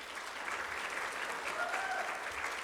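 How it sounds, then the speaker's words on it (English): Steady audience applause at an opening plenary session, a continuous even patter of clapping from a room of people, moderately loud with no voices over it. "Everybody give her a round of applause."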